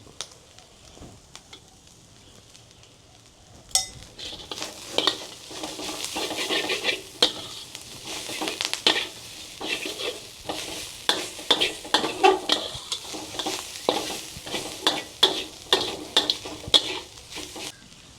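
Chopped banana flower with a little turmeric sizzles in a pan. A quiet start gives way to steady frying and repeated near scrapes and clinks of a spoon stirring against the metal.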